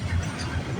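A CN freight train's rear DPU locomotive rolls past up close, a steady loud rumble of engine and wheels on rail with no voices.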